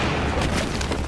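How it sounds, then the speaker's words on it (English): A grenade blast in Battlefield 4 during a competitive 5v5 defuse match: one dense, booming burst that fills the whole short moment, loud and close. "I think he gets taken down by a nade."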